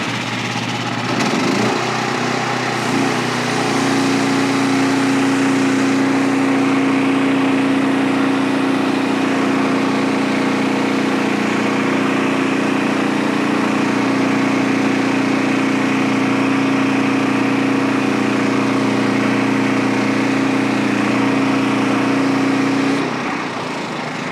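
A loud, steady engine drone with a strong low hum runs for over twenty seconds while an OS23 sawmill cuts a red maple log into 4/4 boards, rising at the start and dropping off at the end.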